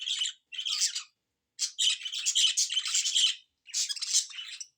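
Bright, high chirps and tweets from small birds come in quick repeated bursts with short pauses, close by and moderately loud, with no talking.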